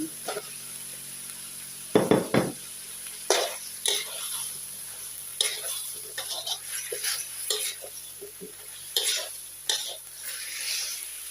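Pork with curry paste and eggplant stir-fried in a pan, with soft sizzling under repeated scraping stirs and clinks of a utensil against the pan, close by, sometimes briefly louder.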